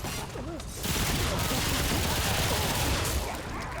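Gunfire in Remnant II forms a dense, loud, continuous roar of rapid shots lasting several seconds, with a voice faintly under it.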